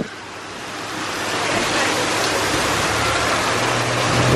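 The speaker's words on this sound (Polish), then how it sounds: "Ściana deszczu." A sudden heavy downpour on a city street in Prague, a loud dense roar of rain that swells and stays strong throughout, with wind noise hitting the microphone and no talk.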